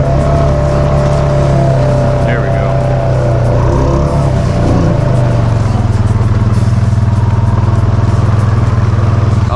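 A Honda Foreman ATV engine running at about quarter throttle in deep mud, a loud close steady drone with shifts in pitch partway through, mixed with splashing and someone talking over it.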